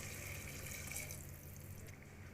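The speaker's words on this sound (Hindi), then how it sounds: "2 गिलास के बराबर हमने इसके अंदर पानी ऐड कर दिया है।" Water pours steadily into frying moong lentils in a pan, a faint continuous splashing hiss with a sizzling edge that fades slightly toward the end.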